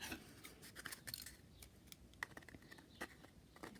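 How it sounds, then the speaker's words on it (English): Scissors cutting around the shape of a cardboard tube: many small, close, quiet snips and crunches in an uneven, fiddly rhythm. "be a bit fiddly getting the scissors in"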